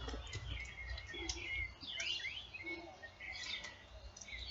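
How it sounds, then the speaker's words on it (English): Birds singing on a foggy Saturday morning in Saba, Texas, with several chirping, whistling calls at mid distance over a quiet outdoor ambience. "the birds are singing"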